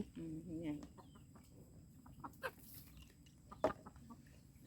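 Chickens cluck in short, scattered bursts against a quiet rural background, with a couple of sharper clucks standing out; faint and fairly distant, with no talk.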